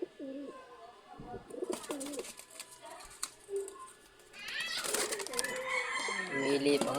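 Pigeons cooing in a loft where the birds are mostly cocks, with repeated throaty coos near and far, a busy burst of calls and wing movement in the second half, and low voices now and then.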